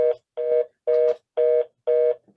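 A telephone rings in repeated, evenly spaced electronic bursts, five clear rings about half a second each with short gaps between them, loud and close with no voices over it.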